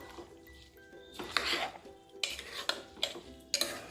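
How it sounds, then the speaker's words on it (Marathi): Washed rice and chicken being stirred together in a pot for chicken biryani: close, repeated scraping and clinking of a spoon against metal, with a faint sizzle underneath. "तांदूळही चिकनमध्ये टाकल्याच्या नंतर त्याला व्यवस्थित आपण छानपैकी मिक्स करून घेऊया"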